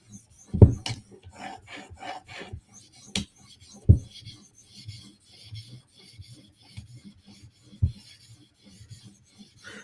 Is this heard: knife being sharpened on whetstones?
yes